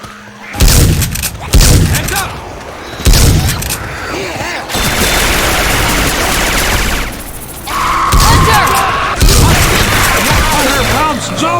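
Loud, close gunfire from Syphon Filter weapon sounds modded into Left 4 Dead 2: several heavy single booms, then long sustained automatic bursts, with game voices calling out over the shooting.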